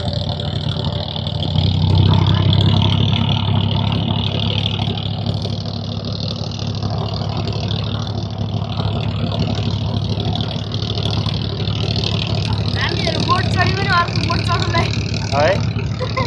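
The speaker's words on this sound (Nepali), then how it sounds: "यो ट्र्याक्टरको इन्जिन" Tractor engine running, a steady low mechanical drone lasting throughout at moderate loudness, with people talking over it.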